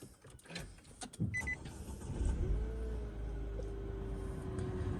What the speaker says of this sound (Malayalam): ഇത് ഇപ്പോൾ വണ്ടി ഓണാക്കി